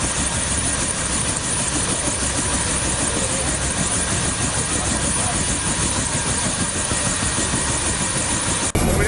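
A police helicopter from the Core unit runs in Angra dos Reis, Brazil. Its engine and rotor make a loud, close, steady roar that holds through the whole clip before a sudden cut near the end.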